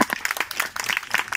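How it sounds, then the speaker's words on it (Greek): A small group at a theatre workshop in a camping setting breaks into brief, lively applause, with dense overlapping claps that sound close by. "Οκ, χειροκρότημα"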